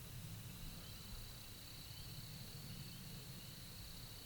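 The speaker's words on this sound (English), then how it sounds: "all I can hear is spring peepers in the distance and crickets and silence" Faint, steady insect chirring with a thin high trill from distant spring peepers and crickets over a quiet countryside night background, nothing else stirring.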